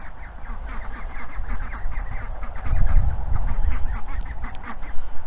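Adult ducks and ducklings on a garden homestead quack and chatter in a dense, continuous chorus, with a lower honking swell midway and no talking.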